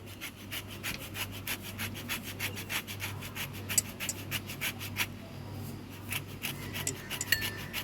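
Lemon peel rubbed against a grater for zest, making a steady run of close, rhythmic rasping strokes with no pauses.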